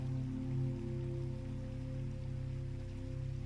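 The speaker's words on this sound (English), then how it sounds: "the rain's been softly tapping at the glass all morning" Soft morning rain tapping on window glass, a steady gentle patter under a low continuous hum, with no other sounds.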